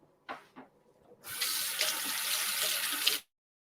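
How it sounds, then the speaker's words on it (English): Tap water gushes into a sink for about two seconds while hands are washed, coming right after a few soft knocks and handling sounds, then cutting off abruptly as the faucet closes. "Let me wash my hands real quick."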